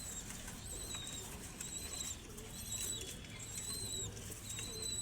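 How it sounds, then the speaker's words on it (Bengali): Red checker racing pigeon squabs shuffle and flap their wings in a loft, soft patters and brief wingbeats over low background hum, with faint repeated chirps and cooing nearby. "ডানা ঝাপটানো, সাধারণ বাচ্চার চেয়ে অনেক ভিন্নতা লক্ষ্য করা যায়।"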